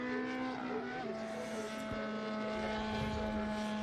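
A Lotus race car, apparently a four-cylinder Formula 2 machine, runs at a historic racing exhibition, its engine droning steadily and loudly throughout, with the pitch shifting slightly as it passes.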